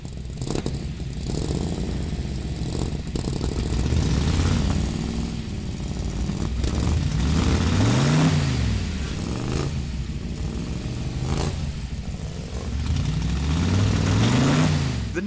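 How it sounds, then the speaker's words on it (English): A 1965 Ford Shelby Mustang GT350 V8 rumbles at idle, then rises and falls through several revs in repeated swells, heard from close by with a rough, throbbing exhaust tone. "Number 10, 1965 Ford Shelby Mustang"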